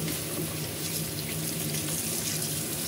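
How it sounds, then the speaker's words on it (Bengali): Tap water runs steadily into a kitchen sink as ghatkol leaves are rinsed, a continuous even splashing hiss with no talk over it. "এই যে এটা পাতাটা একটু ভালো করে ধুয়ে নিলাম।"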